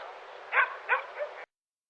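A dog barks three times in quick succession, fairly close, during an agility run, over a thin band of background noise that cuts off abruptly.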